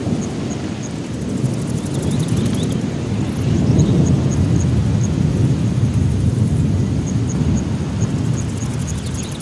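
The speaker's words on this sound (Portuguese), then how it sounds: "O abençoado som do trovão." Deep, rolling thunder rumbles on steadily for the whole stretch, with a hiss like rain or wind over it and no voices.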